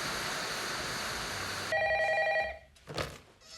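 A telephone rings in the Japanese horror film Ringu. A loud electronic trilling ring enters abruptly over a wash of static noise, then breaks off into a brief rustle and quiet.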